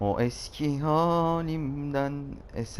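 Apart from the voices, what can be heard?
No distinct noise like a dog, phone or traffic.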